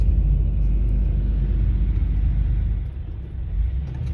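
Low steady engine and road rumble inside a car at night, close and continuous, easing slightly partway through with no talk.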